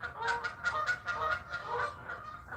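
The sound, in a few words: geese honking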